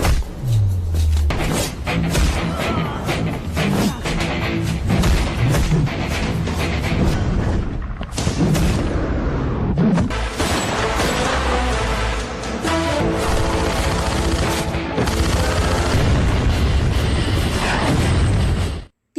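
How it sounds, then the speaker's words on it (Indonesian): Action-film battle scene from Baaghi 2 with bomb explosions and gunfire, dense loud booms and bursts layered over a music score, continuous and intense throughout. "Ia melempar bom itu ke para anggota, mereka meledak satu persatu."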